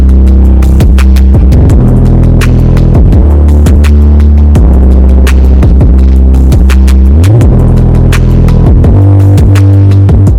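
A sewing machine stitches layers of burqa hem fabric, running loud and close with a heavy throbbing motor hum and rapid clicking needle strokes, its speed rising and falling in bursts, with no talking.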